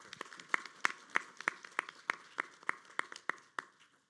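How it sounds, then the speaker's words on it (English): Applause for the candidates at an event comes through as sparse, separate claps in an uneven rhythm, faint and distant, like a small audience clapping. "can we give a warm round of applause for all of our candidates?"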